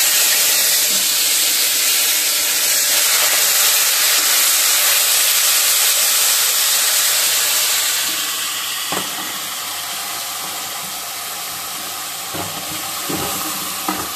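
Potatoes frying in hot oil with dried chillies, a steady loud sizzle and hiss that eases slightly partway through, with a few faint clinks and no talking.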